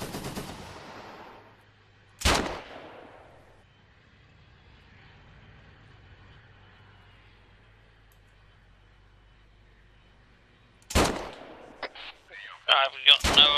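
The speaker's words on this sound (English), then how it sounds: "there's a tank shooting" A tank fires in the military game Arma 3 during night gameplay: a few sharp, loud blasts with decaying rumble, separated by a quiet low engine drone, then a cluster of quicker shots near the end.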